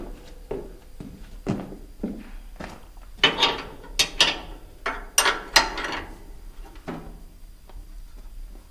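A ratchet tightens a bolt on a Bandit 18XP wood chipper, with a series of close, sharp clicking and clanking bursts arriving in irregular groups.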